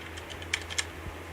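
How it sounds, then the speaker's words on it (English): Quiet, quick keyboard typing with a few sharper key clicks standing out over a low steady hum, with no talking. "Intense typing from Glimpse"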